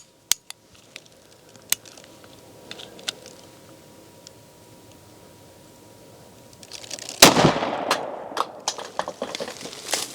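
Hornady 175 grain 10mm Critical Duty rounds are fired outdoors from a Springfield Ronin 1911 pistol, with a few sharp distant cracks, then one loud close shot followed by a burst of clattering debris.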